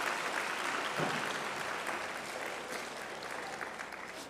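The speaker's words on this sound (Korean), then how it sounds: "오늘 공연을 위해 수고하신 모든 분들께 우리 박수 한 번 더 부탁드리겠습니다" Sustained applause from an audience at a church winter camp evening service, steady and full throughout, slowly easing slightly toward the end.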